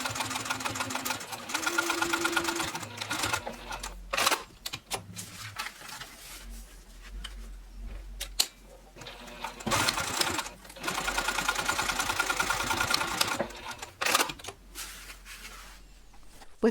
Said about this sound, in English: now take it to the sewing machine and stitch it at 1/8 of an inch seam